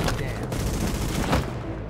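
Blind-fire gunshots in The Division on hard difficulty at the Lincoln Tunnel checkpoint, a dense, rapid burst of loud close gunfire that fades out at the end.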